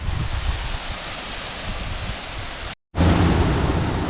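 Rydell Falls, a roadside waterfall in western North Carolina, roars in a steady broadband wash of falling water, close and loud throughout, broken by a very short gap near the end.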